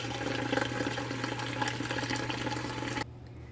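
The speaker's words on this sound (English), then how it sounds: "we're just going to barely cover them with some water." Water pouring into a pot over tomatoes, a steady, close rushing splash that stops abruptly near the end.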